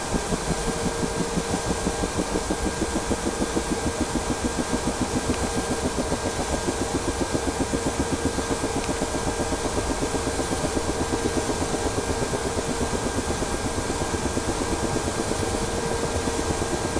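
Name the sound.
Ka-50 helicopter right engine spooling up in DCS World video game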